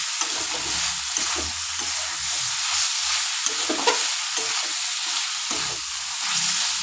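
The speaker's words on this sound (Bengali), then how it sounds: "সয়াবিনটা একটু নাড়াচাড়া" Soaked, squeezed soybean chunks stirred in a frying pan, giving a continuous hissing sizzle close by with irregular scraping and tapping from the spoon throughout.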